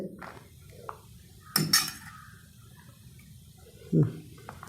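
Hot rice for chicken mandi served onto a plate, with a few light clinks and scrapes of a utensil against the dish, quiet and close by.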